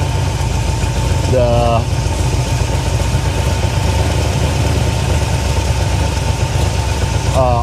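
The engine of a 1977 Chevy Monte Carlo barely idles, a rough, low rumble that sounds close and keeps going throughout, with a few brief voice bits riding over it.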